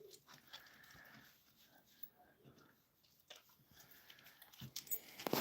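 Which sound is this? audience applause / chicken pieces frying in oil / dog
dog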